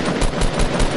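Rapid automatic gunfire in the Fortnite battle royale game, a loud, close, continuous stutter of shots lasting about a second with no talking.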